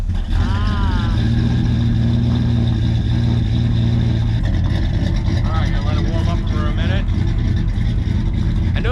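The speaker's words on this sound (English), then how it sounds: "gonna start the car up and back it out and let her warm up" A 1976 Oldsmobile 442 engine runs steadily after starting, idling and warming up with a low, continuous rumble and a few revs, close by under ongoing talk.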